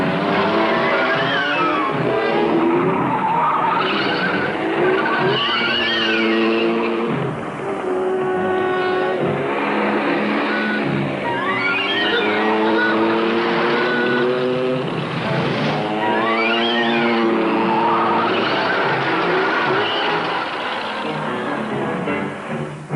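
A motor wagon is driven hard, its engine roaring loudly and repeatedly climbing in pitch through the gears, a continuous near, straining drone with no voices over it.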